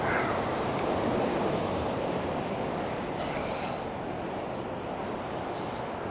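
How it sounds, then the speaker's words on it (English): A northeast wind blows across a seashore, roaring steadily and buffeting the microphone over a constant wash of surf, with no voices. "I do have a little bit of wind coming out of the northeast"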